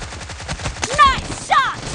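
Bursts of automatic gunfire from PUBG Mobile fire in rapid rhythmic volleys, loud and close, with a couple of sharper sweeping in-game effects near the end.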